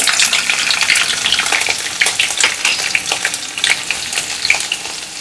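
Cumin seeds and chili dropped into hot oil for a Maharashtrian varan phal tempering, a loud, bright crackling sizzle that bursts up at once and then fades slightly while staying busy and close, with no talking.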